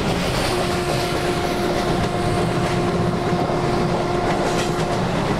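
A continuous, loud rumble of an Indian Railways express train hauled by a WAP4 locomotive in the MSTS train simulator game, with steady rolling wheel noise, faint clickety-clack and a sustained tonal hum throughout, during an overtaking move.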